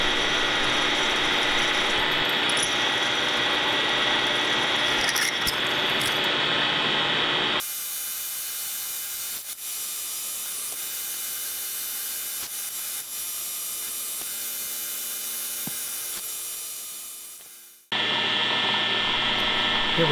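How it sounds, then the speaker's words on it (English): A milling machine power tapping with a 1/4-20 tap in a drill chuck runs with a loud mechanical whir and clicking, then drops to a quieter steady hum with faint rhythmic ticks before the louder running resumes. "Here we're just power tapping with the mill, and just a 1/4-20 tap, chucked up in a drill chuck."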